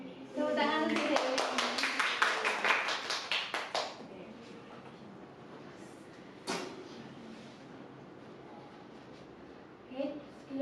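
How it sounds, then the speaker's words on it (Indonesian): An audience claps hands, a dense burst of applause from about half a second to four seconds, then fading to a few isolated claps amid room noise. "Tepuk tangan untuk Dewi."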